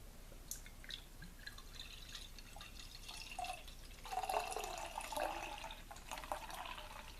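Liquid splashes and fizzes as lightly carbonated beer, bottled from a keg, is poured into a glass, a steady bubbly trickle that swells midway, close up and quiet, with no voices.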